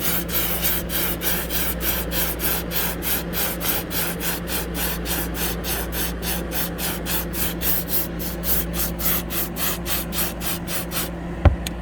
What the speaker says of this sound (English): So I'm gonna get to shaking and get to spraying.